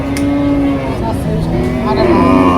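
Cows and heifers, local and crossbred, moo at a livestock market in Tangail, a couple of low calls under constant chatter and crowd noise.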